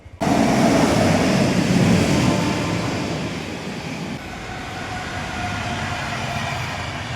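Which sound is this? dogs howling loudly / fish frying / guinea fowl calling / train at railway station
train at railway station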